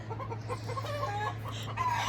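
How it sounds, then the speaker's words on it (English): A chicken gives a series of honking, goose-like clucks close by over a steady low hum, with the calls growing louder near the end. "he sounds like a goose, don't he?"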